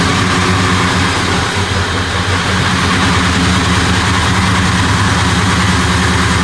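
A car engine idles steadily and loudly at close range, a constant low rumble with a slight vibrating pulse and no voices over it.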